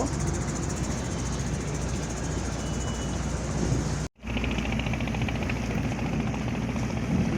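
A large trawler boat that carries potatoes drones with a loud, steady engine rumble and rattle close by, cutting out for a moment before carrying on.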